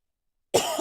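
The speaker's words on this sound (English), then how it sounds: "I'm sorry about the coughing" A short, sharp cough bursts out suddenly after silence, close and fairly quiet, with a second smaller cough hitch at the end.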